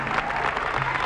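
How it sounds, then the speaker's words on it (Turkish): Applause from an audience in an old Turkish film scene with a dancer, a steady dense wash of clapping that fills the whole short moment at moderate level. "Alkış!"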